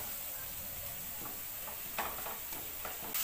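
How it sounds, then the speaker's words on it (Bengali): Garlic paste fries in a pan with a steady, even sizzle, while a few soft scrapes and taps from stirring break through it. "রসুনটাও একটু ভালো করে ফ্রাই করে নিচ্ছি"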